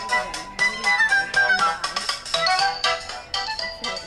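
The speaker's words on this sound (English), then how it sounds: "Dude, your phone's ringing." A phone ringtone plays loudly and close, a bright repeating melodic ring over a Valorant gaming session, sounding continuously with only faint background chatter.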